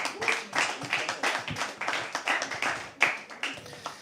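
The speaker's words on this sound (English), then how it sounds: "Can we please have another round of applause?" An audience at a live poetry open mic at The Habitat gives another round of applause, distinct rhythmic hand claps blending into moderate, close clapping with some louder individual hits.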